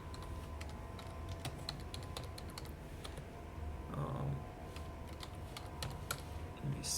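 Fingers type at a computer keyboard, clicking in irregular bursts of close, quiet keystrokes, with faint low room noise beneath and no talking.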